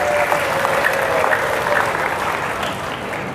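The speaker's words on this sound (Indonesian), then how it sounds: "Oke, tepuk tangan buat TKP." An audience in a school hall on an entrepreneurship talk claps for a department group, a dense steady burst of applause lasting a few seconds and fading slightly at the end.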